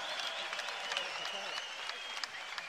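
An arena crowd at the FNC 7 fight event gives sustained applause for fighter Savo Lazić, a dense, steady clapping wash under a voice.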